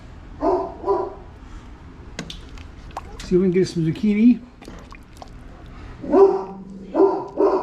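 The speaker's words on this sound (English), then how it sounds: "Excuse the dog barking." A dog barks a few times in the background, short sharp yelps coming in bursts while a person talks nearby.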